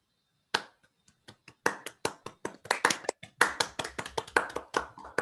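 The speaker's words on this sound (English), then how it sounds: "Thank you for unmuting and clapping" Scattered hand claps from a small audience at the close of a lecture, starting sparse and building into steady, moderately close applause with no talking over it.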